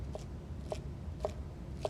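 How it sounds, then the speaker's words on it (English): A kitchen knife rocking through vegetables on a cutting board, giving four light, evenly spaced taps about half a second apart over a soft room hum. Nobody speaks. "And then the rocking of the knife"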